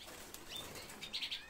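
Birds flapping their wings in a loft or cage, a soft fluttering burst that builds near the end, with faint chirps over a quiet background.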